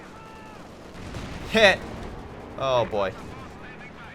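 Mortar rounds and scattered gunfire rumble in the background of a Company of Heroes 2 4v4 match on Port of Hamburg, fairly quiet beneath someone talking.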